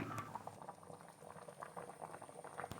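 Kerala-style ayilapara fish curry with coconut paste bubbles in a pot, a faint, close burble of popping bubbles going on steadily throughout.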